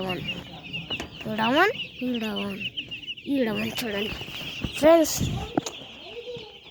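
Chickens clucking close by, several rising and falling clucks in bursts over a few seconds, with someone speaking briefly among them.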